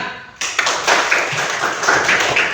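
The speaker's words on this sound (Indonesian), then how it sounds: "beri tepuk tangan" A class of students applauding in a classroom, with a dense burst of clapping that starts abruptly after a short quiet moment and continues steadily to the end.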